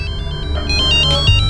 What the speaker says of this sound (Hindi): लगता है उनका फोन होगा।